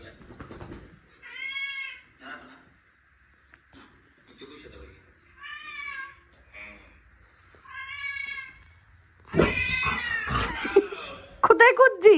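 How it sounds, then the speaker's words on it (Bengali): A cat meows several times in short, clear calls separated by pauses, with people's voices close by and louder talking near the end. "ওই যে ম্যাও, ওই যে ম্যাও"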